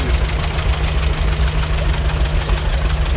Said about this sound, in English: It's 1943 John Deere A.